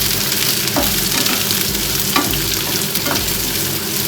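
Green chillies are sautéed in a pan for a fish rice dish, producing a loud, continuous close sizzle with a few scraping stirs of a spatula every second or so, no voices present.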